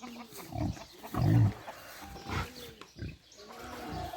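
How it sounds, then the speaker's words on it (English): Pigs and newly born piglets on a farm make low grunts in several short bursts, one louder and close, with quieter grunting and rustling around them. "Oh, these pigs are always out. They just had piglets."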